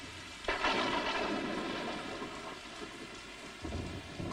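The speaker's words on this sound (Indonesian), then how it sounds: "Hujan hari ini deras ya." Heavy rain pours down in a steady, dense hiss, with a sudden loud burst like a rumble of thunder near the start, continuing without talk.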